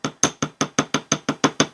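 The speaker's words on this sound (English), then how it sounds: "take your plenishing hammer and do the same thing. Now this will flatten the wire up here" A planishing hammer strikes a thin metal earwire in about ten quick, even, ringing taps close by, flattening and work-hardening the wire with a bright metallic clink on each blow.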